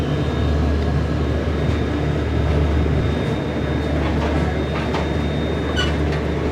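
Inside the Bhopal Shatabdi Express as it runs in early morning darkness, a steady, dense rumble and rolling rattle fill the carriage, with faint higher squeals and clicks over the constant drone.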